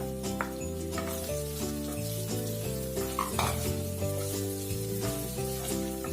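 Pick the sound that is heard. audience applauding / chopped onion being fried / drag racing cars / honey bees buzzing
chopped onion being fried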